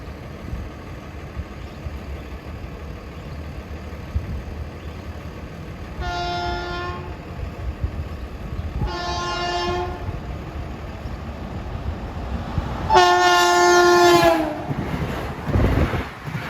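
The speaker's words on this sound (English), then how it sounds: "he just departed Hicksville as train 2016 from Grand Central to Ronkonkoma" An LIRR Ronkonkoma Line train, number 2016 from Grand Central to Ronkonkoma, pulls out of Hicksville with a loud rumble and sounds three horn blasts, the last one longest and strongest.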